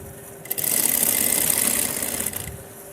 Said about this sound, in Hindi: अब दूसरी सिलाई भी लगा लेंगे।